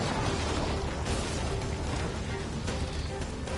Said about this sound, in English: Watch out for the explosions and the fire.